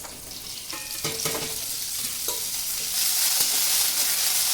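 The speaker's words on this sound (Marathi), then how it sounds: "कढईमध्ये तेल टाकून घेते आणि तेलामध्ये ना ही भेंडी आपल्याला चांगली भाजून घ्यायची आता" Okra frying in hot oil in a kadai, a steady close sizzle that grows louder toward the end, with a few scraping and stirring knocks from a utensil early on.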